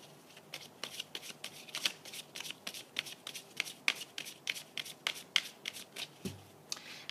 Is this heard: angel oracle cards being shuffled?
yes